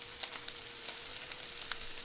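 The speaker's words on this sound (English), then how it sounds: "That sizzle, that crackle, that's the moisture being released from our rice." Steady, close sizzling and crackling from rice frying in a hot wok, with a few sharper pops and scrapes breaking through the hiss.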